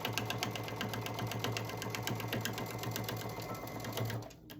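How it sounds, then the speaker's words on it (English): A sewing machine running fast and evenly while back stitching through a dish drying mat, a close steady mechanical whir with rapid needle ticks that stops abruptly at the end. "Back stitching again."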